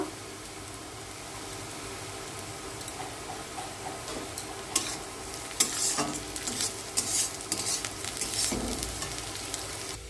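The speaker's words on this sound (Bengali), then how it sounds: "গাজরটা ভেজে নেব এবার আমি এতে একটা কাঁচা লঙ্কা কুচি দিয়ে দেব" Grated carrot frying in a pan with chopped green chilli, a soft steady sizzle broken by stirring scrapes and spatula taps that grow more frequent toward the end, no talk.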